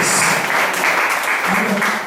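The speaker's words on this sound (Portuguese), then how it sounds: "Você pode dar uma salva de palmas para Jesus nessa noite?" Applause in a church service, a brief burst of congregational clapping that carries through the short moment, mixed with voices.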